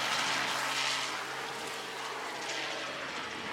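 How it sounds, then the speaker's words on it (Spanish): A helicopter circling above a sailboat crossing the open Pacific Ocean, heard as a steady, broad rotor and engine roar that swells slightly and then eases as it passes overhead. "Tenemos un helicóptero que nos está dando vueltas."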